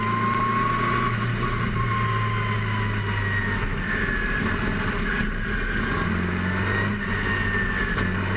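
Race cars running two abreast on an oval track at a New England short-track event, a steady, continuous engine drone with slight revving swells, heard from a moderate distance without any voices.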